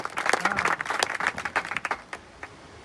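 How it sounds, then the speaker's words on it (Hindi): A farmers' union gathering breaks into applause, a burst of close, sharp hand claps that fades and thins out after about two seconds, leaving sparse scattered claps and quiet. "सभी लोगों का बहुत बहुत स्वागत, जोरदार तालियों से।"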